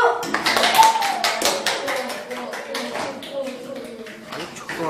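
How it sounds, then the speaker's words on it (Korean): Elementary school children at a community children's center clap for a newly chosen class leader, a quick burst of sharp, uneven handclaps that thins into scattered claps, mixed with excited children's chatter. "박수!"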